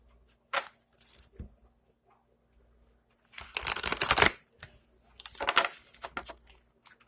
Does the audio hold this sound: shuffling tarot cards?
yes